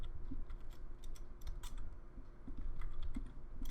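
Quiet, irregular bursts of keystrokes as code is typed on a computer keyboard, clustered taps with short pauses between groups, soft and close.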